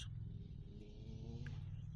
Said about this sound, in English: some kids are cruising around on their quads and dirt bikes